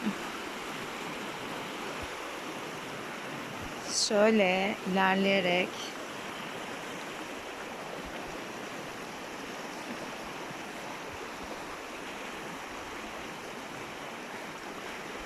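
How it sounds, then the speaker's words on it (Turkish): A stream flows steadily through green, forested countryside near a campsite, a constant rushing wash throughout, with a brief stretch of someone talking near the start. "Dere."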